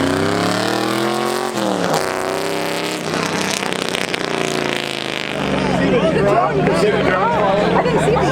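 A loud modified car with an aftermarket exhaust runs at an exhaust contest, its rising and falling engine revs blaring up close over crowd chatter and voices.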